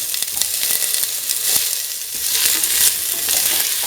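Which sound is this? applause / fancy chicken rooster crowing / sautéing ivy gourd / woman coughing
sautéing ivy gourd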